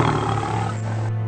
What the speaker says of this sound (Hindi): बाघ ने झाड़ियों से छलांग मार दी और तेंदुए पर हमला कर दिया